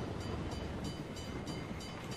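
A train rumbles past continuously in the video game PUBG, a loud, steady rolling roar with faint rhythmic clatter and no talking.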